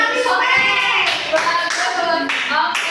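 A classroom of schoolchildren claps together in a quick patterned rhythm for a few seconds, loud and close, with children's voices mixed in.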